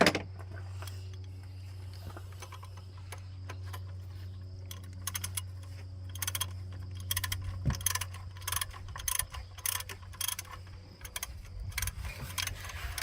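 A ratchet clicks in short bursts while backing screws out of the EGR valve on a 2008 Dodge Durango, close metallic ticking over a steady low engine-bay hum.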